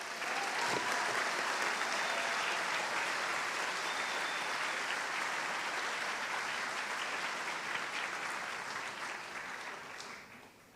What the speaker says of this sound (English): one more round of applause for our New Hampshire scholars.